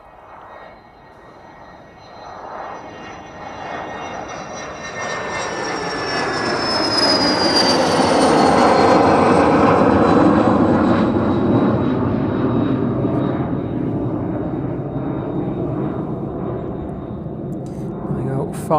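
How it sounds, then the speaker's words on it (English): A Hawker Beechcraft business jet departing East Midlands Airport rises from a low rumble to a loud jet-engine roar with a high whine, peaking midway and then easing off slightly, with faint talk underneath. "Hawker Beechcraft though, next to depart East Midlands."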